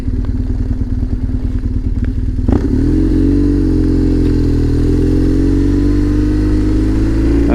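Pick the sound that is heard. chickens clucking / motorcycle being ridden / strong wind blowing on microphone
motorcycle being ridden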